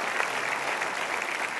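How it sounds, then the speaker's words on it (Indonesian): A short burst of steady clapping from a small audience, even and continuous, with no one speaking over it. "Berikan tepuk tangan, sahabat-sahabat kalian."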